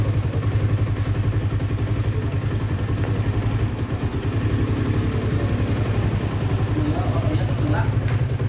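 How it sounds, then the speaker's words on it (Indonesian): A Honda CB150R motorcycle engine idles close by with its battery terminal disconnected, a steady rapid low chug with some mechanical clatter, while someone speaks over it. "Nah, ini bisa hidup, mungkin masih ada arusnya yang dari akinya sehingga motor dia bisa hidup."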